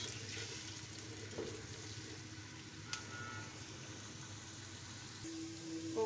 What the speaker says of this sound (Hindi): तब तक हम इसको फ्राई करेंगे जब तक हमारे प्याज का